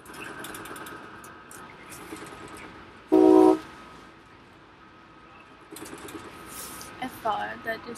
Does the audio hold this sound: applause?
no